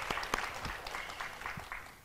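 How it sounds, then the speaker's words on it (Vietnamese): Brief burst of audience applause at a Vietnamese singing show, a dense crackle of hands with a few sharper claps standing out, moderately close. "Bây giờ cho một tràng pháo tay đi cho nó sôi động này"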